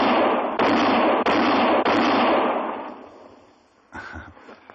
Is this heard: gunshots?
yes